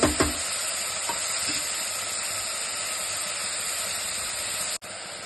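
Vegetables with fresh green peas fry steadily in hot oil for masala upma, giving a continuous close sizzle with a few brief stirring scrapes near the start.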